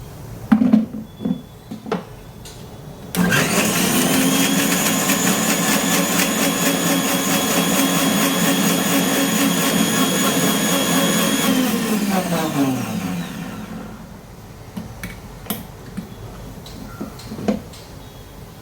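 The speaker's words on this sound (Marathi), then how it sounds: "हे मिक्सरला लावून फिरवून घेऊया." Mixer grinder whirring steadily for about nine seconds as it grinds dried coconut, garlic, ginger and coriander with a little water into masala paste; loud, continuous motor drone that starts abruptly and then winds down, with a few clicks before and after.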